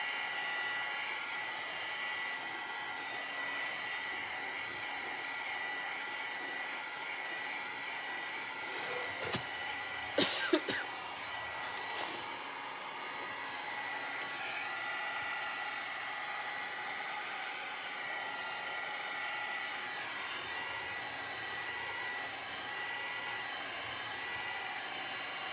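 Loud heat gun blowing air over canvas decor, a steady broadband whooshing roar held without a break, close and alone, with a few brief clicks and knocks partway through.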